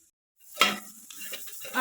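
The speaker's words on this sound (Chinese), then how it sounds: "我习惯把我的洋葱煸到有一点点的咖啡色，这样子吃起来就不会有那个菜生味。" Onions stir-fried in olive oil in a home kitchen pan until lightly browned, a soft sizzle with spatula scrapes and clinks starting after a brief silence and continuing steadily up close.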